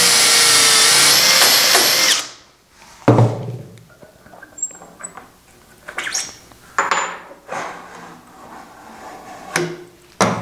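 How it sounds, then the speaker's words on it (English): A power drill bores a dowel hole through a Dowelmax jig, whining loud and steady for about two seconds before cutting off, followed by scattered knocks, taps and handling clatter. "now we're drilling into number 4 again"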